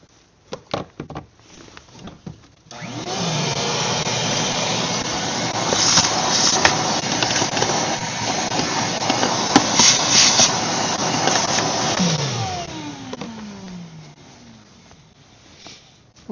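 A shop vacuum sucks debris from the engine air box of a 2024 Ford Super Duty with the 6.7 PowerStroke diesel, a sustained loud whoosh lasting about ten seconds, with clunks before it and a falling whine as it shuts off.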